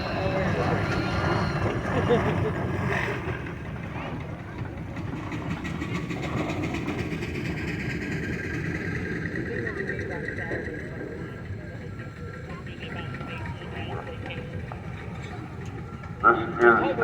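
A 1921 Russell steam engine of about 13 tons and 25 horsepower rumbles along in a parade, a steady low mechanical chug with rattling clatter over a crowd outdoors, with a sharper burst near the end.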